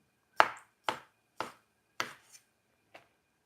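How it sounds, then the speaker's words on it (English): A knife chops through food on a cutting board in five or six distinct, evenly spaced close knocks, fading slightly toward the end, no talk. "making some slices down the middle"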